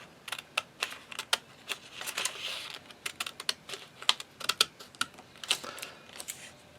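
Scissors cut paper flaps along drawn lines for an interactive notebook, making a rapid series of crisp, close snips in an uneven rhythm with short pauses between cuts.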